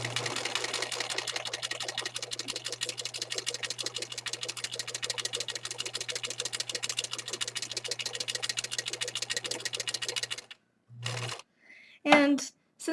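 A sewing machine runs a practice seam in a fast, steady stitching rattle with a low motor hum for about ten seconds, then stops; a few short bursts and brief handling noises follow.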